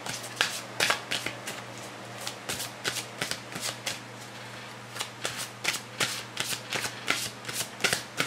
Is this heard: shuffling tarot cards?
yes